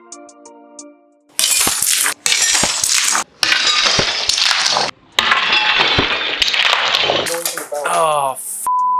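Tempered glass shatters while being cut with a power tool, loud bursts of cracking and tinkling shards near the mic, broken by short pauses, with fragments crackling and a speaking voice over the noise.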